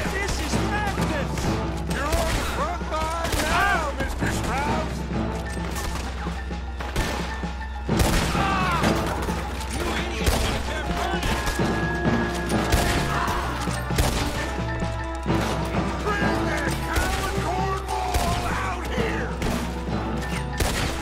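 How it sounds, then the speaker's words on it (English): Gunfire rings out as a town gets shot up in the video game Red Dead Redemption 2, with repeated shots and crashes over a dense bed of game music and ambience, and voices talking at moments. "Shooting up an entire town."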